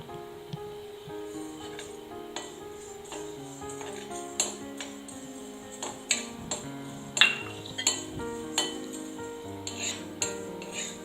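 Black pepper and cumin seeds dry roasting in a pan, with scattered clinks and scraping taps of a spoon against metal, irregular and moderately close, mixed with soft rattling of seeds and no talk.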